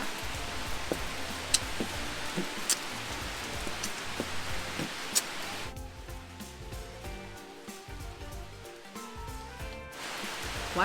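Rain falls near the Erawan Waterfall in Thailand as a soft, steady patter with occasional sharper drop ticks. It thins briefly partway through, then returns to a fuller wash.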